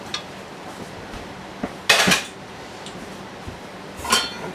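An old aluminum pressure cooker being handled, giving a few sharp metallic clanks and clinks, one louder cluster of knocks in the middle and another near the end, with quiet pauses between.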